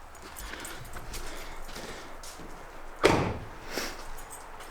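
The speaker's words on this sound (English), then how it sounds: "Doors open and close really well." Car doors on a Sonic Blue Terminator Cobra open and close, a soft muffled thud early and then a sharper, louder shut near the end over faint background noise.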